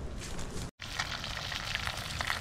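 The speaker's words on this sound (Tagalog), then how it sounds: "nagpiprito na po tayo dito ng tilapia" Tilapia sizzles and crackles steadily in hot oil, a constant frying hiss with a brief break near the start.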